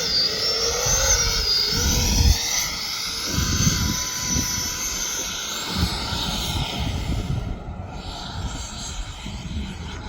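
An E-flite F-16 80mm electric ducted fan RC jet flying slow high-alpha passes, a loud continuous whooshing whine with shifting pitch overhead, gusty wind rumbling beneath.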